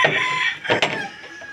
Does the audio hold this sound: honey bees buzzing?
no